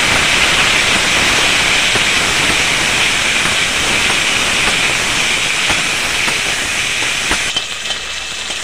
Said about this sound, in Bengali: নুন, হলুদ দিয়ে ঢ্যাঁড়সটাকে নেড়ে চেড়ে ভেজে নেব।